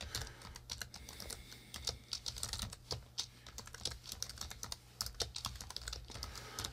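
Rapid typing on a computer keyboard, a steady run of close, crisp key clicks with brief pauses, sounding alone with no talk over it.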